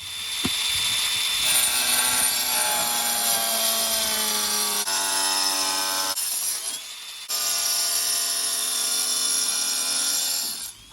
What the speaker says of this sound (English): So I'm going to grab my little angle grinder and I'm going to cut a few little strips.